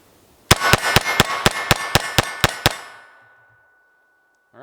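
Rimfire pistol shots ringing off steel targets in a fast string of about ten sharp clangs, evenly spaced, with a metallic ring that decays into quiet afterward.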